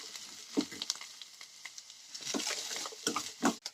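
Sliced onions and curry leaves sautéing in a pan give a soft frying crackle with scattered louder scrapes and stirring knocks, close but fairly quiet, in short irregular bursts.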